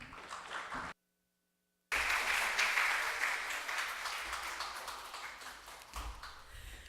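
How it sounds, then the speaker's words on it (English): A crowd at a startup pitch event claps loudly after a brief silence, the applause swelling at once and then slowly tapering off. "Another round of applause for Awesome Bites."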